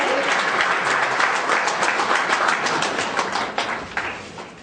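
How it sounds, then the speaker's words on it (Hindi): A crowd at a website launch ceremony breaks into loud, dense, sustained clapping to welcome a guest, steady throughout and fading slightly toward the end, with no speech. "एक बार जोरदार तालियों से उनका स्वागत कीजिए"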